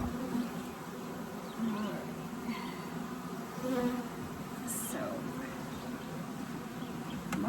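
Honey bees fanning at the entrance of a Layens swarm trap box give a steady, close, droning buzz, with individual bees passing nearby now and then.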